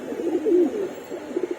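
A pigeon in a loft gives a soft low coo, close and clear over faint background hiss, lasting most of the short moment.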